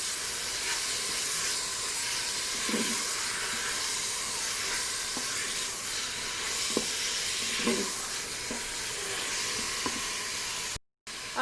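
Meat pieces sizzle in a Cookeo pressure cooker, producing a constant close hiss of frying with occasional small pops and taps over about eleven seconds and no talking.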